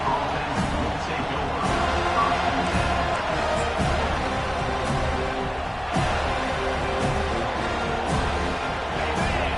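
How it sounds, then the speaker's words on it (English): Stadium crowd at a football game roaring steadily as the visiting team is welcomed, a dense continuous wall of cheering with a few sharper swells, no clear speech on top. "This crowd bringing an ear-splitting welcome to their visitors."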